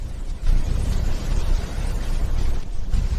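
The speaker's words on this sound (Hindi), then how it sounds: "और फिर एक भयानक धमाका हुआ।" A torpedo striking a warship at sea, a continuous deep rumbling blast that swells after a brief dip and rolls on loudly, dense and booming, with no voices.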